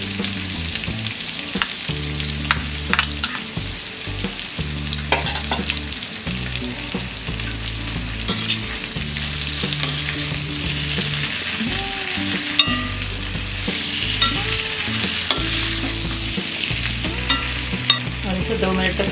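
Potatoes frying in a pan with cumin and coriander, a loud continuous sizzle with steady stirring and scraping throughout, no voices heard.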